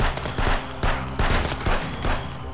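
Gunfire in the video game Contraband Police: loud, close bursts of rapid shots repeat about every half second, forming a steady stuttering rhythm with no talk over it.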